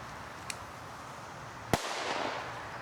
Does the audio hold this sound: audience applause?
no